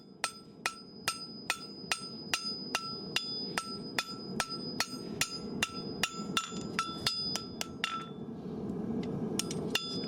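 A farrier at the forge hammers a handmade horseshoe, striking about twenty sharp ringing blows in a steady rhythm, bright metallic clinks with a few quicker doubled hits near the end, fairly close and alone.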